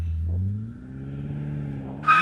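A new BMW M5 launching from a standstill, its engine note climbing steadily as it pulls away, loud and close, ending with a sharp burst of higher noise as it picks up speed.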